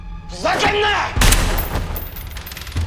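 Gunfire between two rival agencies in an action film shootout: a sharp loud blast followed by a rapid, rattling burst of shots that tails off, after a short stretch of dramatic voice and music.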